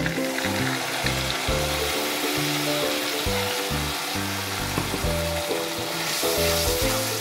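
Garlic, tomato and chilli paste sizzles loudly in a pan while being stirred, a dense continuous frying hiss broken by repeated scraping strokes, close and with no talking.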